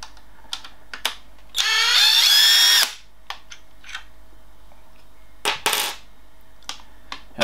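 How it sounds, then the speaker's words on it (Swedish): Battery-powered drill driver unscrewing screws while taking apart a Meec Multiseries 40V 4Ah battery pack: one loud whirring burst of about a second and a half, with small clicks and handling knocks around it and no talk. "Batteridriven maskin här, så vi får lös skruvarna."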